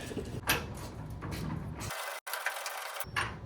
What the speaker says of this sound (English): Get a wrench real quick so we can get that thing started.